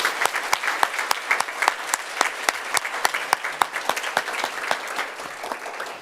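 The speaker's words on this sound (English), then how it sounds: "Let's give them a round of applause" Applause from a small group at a student senate meeting, individual claps sharp and distinct in an uneven patter lasting several seconds, close and moderately loud with no talk.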